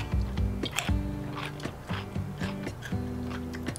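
Crunchy preserved cucumber, a homemade refrigerator pickle, being chewed close up, with several crisp crunching bites and moist chewing sounds over a steady low hum.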